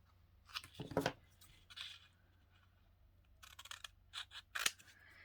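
Scissors snip through paper being trimmed for a handmade card, a few separate crisp cuts with pauses between them, close but quiet, and no speech.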